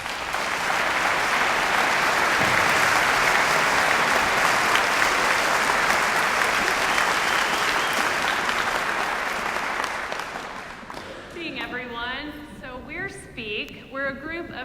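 A concert hall audience at the Meyerson stage applauds steadily and loudly for about ten seconds to welcome performers, then the clapping fades as a person starts talking.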